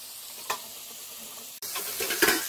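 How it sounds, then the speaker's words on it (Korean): Meat grilling over a fire at a forest campsite gives off a steady crackling sizzle, fairly close, with a brief sharp pop early and a louder, busier sizzle in the second half. "고기가 지글지글 이게 잘 익죠?"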